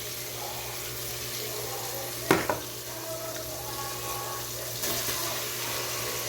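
Milkfish is dropped into a cooking pot of sinigang, making a brief splash and clatter over a constant watery, sizzling simmer. A second, softer disturbance follows a few seconds later.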